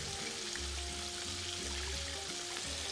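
Water poured into a pan of chicken stew, pollo a la riojana, in a television kitchen; a steady, continuous splashing hiss with a low hum underneath and no talking.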